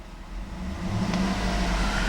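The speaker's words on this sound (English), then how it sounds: "I'm going to rev the engine." A 2007 Cadillac Escalade ESV AWD engine revs up from idle, its low rumble rising and growing steadily louder over a couple of seconds, close by.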